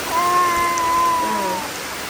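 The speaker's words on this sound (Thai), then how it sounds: "ฝนตกเนาะว้า" Steady rain hisses evenly in the open at a small village wedding, a close, constant wash with a faint high tone running through it and no talk.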